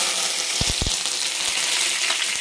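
Mustard seeds, cumin and curry leaves fry in hot oil with chana dal and urad dal for upma, giving a steady close sizzle broken by a few soft pops and spatula taps.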